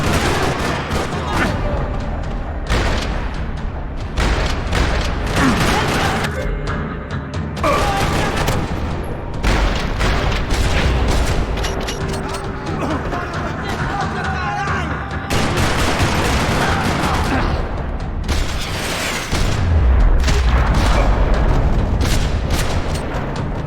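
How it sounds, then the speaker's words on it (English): A parking lot in Max Payne 3 erupts in gunfire: repeated loud bursts of rifle and pistol shots, rapid fusillades and booming impacts continuing throughout, with brief game voices under the shooting. "Another parking lot rattling with gunfire."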